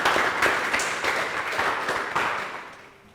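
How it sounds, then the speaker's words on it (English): A school meeting audience gives a round of applause, a brief burst of many hands clapping that fades out toward the end. "She deserves a good round of applause."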